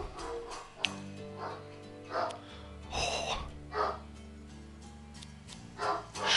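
A dog in The Walking Dead: Survival Instinct barks in repeated short bursts at irregular intervals, fairly close, mixed with a background game tone and a brief exclamation from a person.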